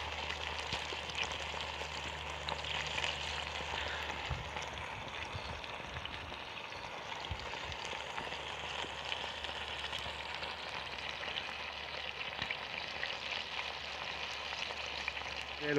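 Sausages sizzling and frying in a pan over an outdoor campfire, a steady dense crackle and hiss running continuously, close and unbroken with no talk.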